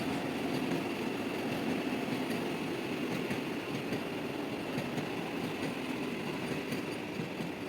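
A Vande Bharat sleeper express train rolls past steadily, producing a continuous broadband rumble and wheel noise with faint rhythmic clatter. The sound holds at a fairly even level for several seconds and has no talking over it.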